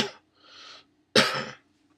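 A man coughs up close: a short cough, a softer breathy exhale, then a loud harsh cough burst, followed by silence.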